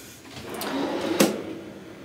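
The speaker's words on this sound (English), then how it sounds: "In this first drawer, you've got the Joffrey's coffee" A kitchen drawer in a Bay Lake Tower hotel room slides open with a short, soft rolling scrape followed by a light clack, heard close and alone in a quiet room.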